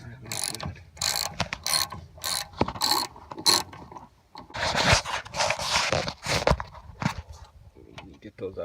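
A ratchet wrench loosens brake caliper bolts on a car, a rapid series of loud clicking bursts, then more sustained scraping turns, with a voice talking in between.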